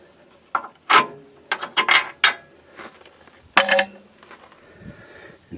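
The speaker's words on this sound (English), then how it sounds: "So now we can take these bolts out." A ratchet works on strut bolts of a 2004 Ford Crown Victoria front end, close sharp bursts of clicking and metallic rasping in irregular spurts separated by quiet gaps.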